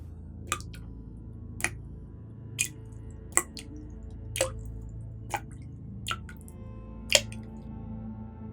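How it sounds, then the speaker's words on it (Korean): Water drips in a quiet room, single clear drops falling at a steady interval of roughly one per second over a faint low background hum. "방 안에 물이 똑똑 떨어진 소리가 울려 퍼졌습니다."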